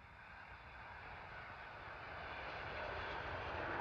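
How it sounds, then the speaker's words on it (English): An Emirates Airbus A380 arriving from Dubai at London Heathrow: a steady, broadband jet roar that slowly builds in loudness as the aircraft approaches, with no voices. "Arriving in now is our first Airbus A380 with Emirates from Dubai to London"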